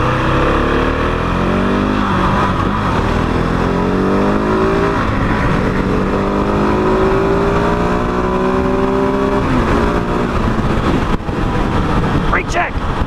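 2021 KTM 690 Enduro single-cylinder motorcycle engine on a test ride, a steady droning thump with rising and falling pitch as the rider shifts through revs, with wind noise close to the microphone throughout.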